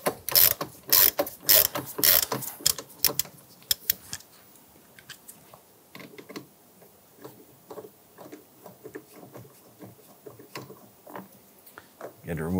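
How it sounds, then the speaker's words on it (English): A half-inch drive ratchet with a T50 Torx bit loosens a bolt on a 1999-2004 Jeep Grand Cherokee, giving bursts of loud, rapid clicking up close, then quieter, sparser clicks and handling noises. "We're going to use our T50, so that's a T50 Torx bit with our half inch drive ratchet."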